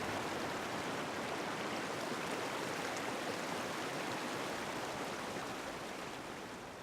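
Creek water flowing steadily in a mining-polluted stream, a faint, even broadband rush with no voices, holding constant before easing slightly at the end.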